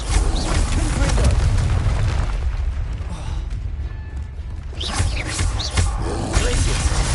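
Confringo explosive spell in the Hogwarts Legacy video game: rumbling booms and fiery bursts over a busy battle din, with several sharp whooshing flares and roaring surges, loud and sustained throughout.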